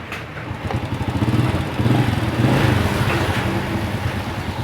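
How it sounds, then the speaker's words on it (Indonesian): A small Honda Astrea, Legenda or Supra Fit motorcycle engine idles close by with a steady, rapid putter that swells a little as the throttle rises, running alone without talk. "Motor sudah hidup ya, normal."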